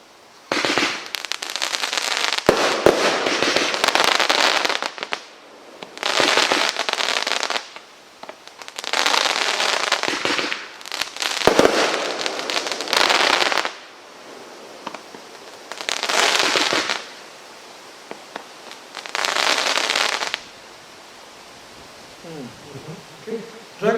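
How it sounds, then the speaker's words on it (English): Andromeda fireworks by Jorg Fireworks at a sale-day demo, loud crackling bursts in six or seven separate waves of several seconds each with short pauses between, close and filling the air. "Andromeda next, Jorg Fireworks."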